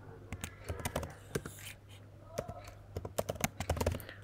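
A password being typed on a computer keyboard, a quick run of close, light key clicks in uneven bursts, with faint whispery background noise.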